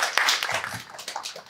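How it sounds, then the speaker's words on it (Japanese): Audience applause at a live public recording in a studio, a dense wash of many hands clapping that fades somewhat over a second and a half, mixed with voices talking at the same time. "盛大な拍手ありがとうございます。"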